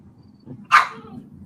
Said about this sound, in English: Did you hear my dog in the background?